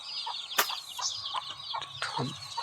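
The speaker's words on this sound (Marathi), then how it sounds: "मी आत आल्यामुळे थोडी घाबरती कोंबडी बघा का कशी करते बघा" Agitated, frightened free-range country hen clucks come in quick, irregular bursts, close by, with sharp squawks and a few lower throaty calls scattered through.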